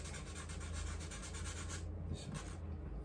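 Soft, continuous rubbing as a drawing tool is passed very lightly over a paper surface, a faint, steady close-up scratch with subtle pulsing strokes.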